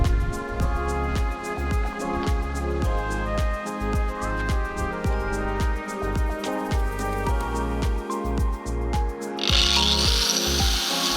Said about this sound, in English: This is my first attempt at trying to use an angle grinder to cut sheet metal.